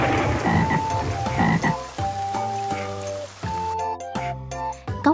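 Loud, rhythmic croaking of toads or frogs repeats steadily up close, several calls overlapping, with a pattering like rain in the background.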